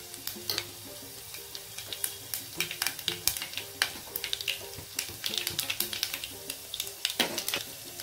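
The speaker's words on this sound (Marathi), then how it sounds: "लसणाची फोडणी छानपैकी होण्यासाठी त्याला सोनेरी रंग येईपर्यंत आपल्याला तळून घ्यायचा आहे." Garlic with red chillies and asafoetida fries in oil for a tempering, crackling in quick irregular pops and spits over a low sizzle, close and fairly quiet.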